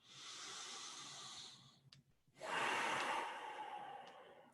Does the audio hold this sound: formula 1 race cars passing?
no